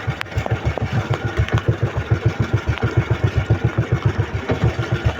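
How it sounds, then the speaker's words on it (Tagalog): A small boat engine, malfunctioning, idles with a steady, rapid putt-putt rhythm, close and loud throughout with no talking. "Nagloko kasi ito ang aking makina"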